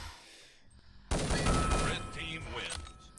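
Gunfire in a Counter-Strike-style video game during a tournament quarter-final match: a sudden loud burst of rapid shots cuts in after a quieter stretch and keeps firing, then thins out toward the end.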